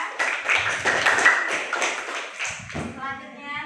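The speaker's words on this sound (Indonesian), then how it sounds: "Tepuk tangan untuk kelompok 3." A classroom group claps for a presenting student team, a brief burst of rapid hand claps with voices talking over it and some tapping, fairly close and loud.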